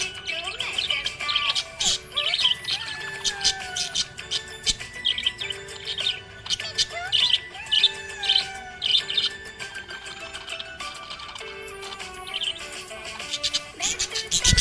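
Pet budgerigar chirps and warbles in a rapid, near and fairly loud stream of short tweets and trills, continuing steadily with brief pauses throughout.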